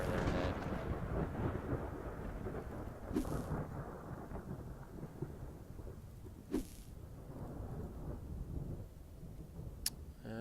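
Thunder rumbles through a lightning storm in Garry's Mod on the Crime City map, a continuous low rolling roar with a few sharper crackling strikes at intervals, no speech.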